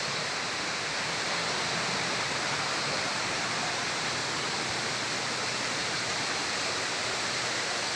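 Steady broadband rush of the Charan Ganga stream near the Baba Dhansar temple in the morning, continuous and even throughout with no breaks, like water running over rocks.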